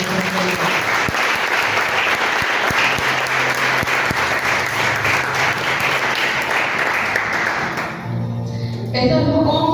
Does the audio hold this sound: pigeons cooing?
no